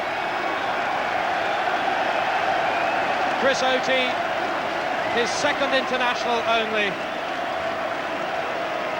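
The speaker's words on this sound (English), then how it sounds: "Did you ever hear such England roars and cheers?" A 65,000-strong crowd at Twickenham for an England v Ireland Five Nations rugby union match roars and cheers in a broad, continuous wash. A commentator speaks over it as voices swell midway.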